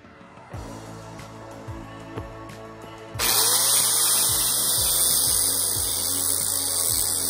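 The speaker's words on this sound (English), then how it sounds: "So now let's go grind it off." A power grinder grinds down the fuller of a forged steel sword blade, starting with clicks and a low hum before a loud, sustained high-pitched grinding whine kicks in close up and runs steadily.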